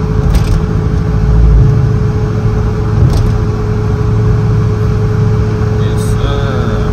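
A Dodge Durango Hemi V8 fitted with four- or five-inch exhaust tips rumbles loudly and steadily while the vehicle is driven, its deep engine and exhaust drone running under a cabin hum with occasional voices.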